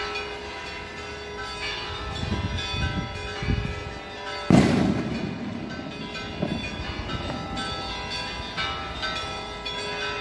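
A distant cannon booms once during an apparent local holiday, a single sharp report over a busy outdoor background of rumbling traffic and clanking, train-like noise.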